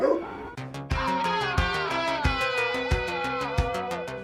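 Dogs barking and yipping in a rapid run of sharp barks over a sustained musical backdrop, loud and close, with a short whimpering note at the start.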